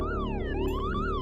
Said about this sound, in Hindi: एम्बुलेंस की आवाज से समझ आ रहा था